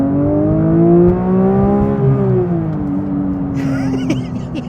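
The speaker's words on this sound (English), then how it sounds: "This is a naturally aspirated flat six 4-litre built by Porsche's motorsport division in Weissach" A loud naturally aspirated 4-litre flat-six Porsche 911 engine, built by Porsche's Weissach motorsport division, sings at a steady high pitch with strong harmonics, the tone sliding slightly down, then a brief clatter near the end.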